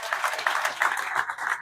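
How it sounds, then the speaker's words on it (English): An audience gives a round of applause at a testimony gathering, a steady dense wash of many hands clapping together for close to two seconds, with no talk over it. "so let's give him a round of applause"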